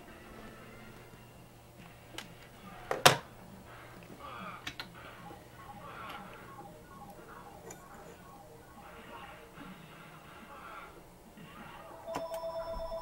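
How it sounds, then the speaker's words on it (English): A mobile phone rings during an arcade live stream, a short repeating electronic ring emerging near the end over steady room noise and occasional clicks. "Oh, my phone's ringing."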